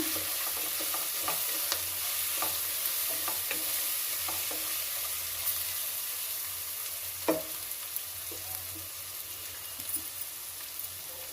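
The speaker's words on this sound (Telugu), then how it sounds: "మన మసాలా, కొబ్బరి, అల్లము వేస్తున్నానండి. పచ్చిమిరపకాయలు అంతా బాగా వేపుకోవాలి." Coconut, ginger and green chillies fry in a pan for a sesame-coconut rice dish, a continuous close sizzle with light stirring scrapes and occasional clinks, no voices.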